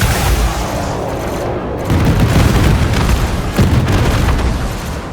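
Packhound missiles in a space combat video game fire and explode in a loud, dense barrage of booms and rumbling blasts. The volume swells again partway through.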